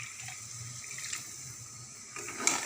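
Water poured into a cooking pan of frying pointed gourd, a soft faint trickle and hiss over a quiet background.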